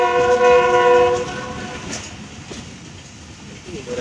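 A Pakistan Railway superfast express train, the 102 Down, sounds a loud horn blast close by, then rumbles and clatters past, with a faint voice in the background.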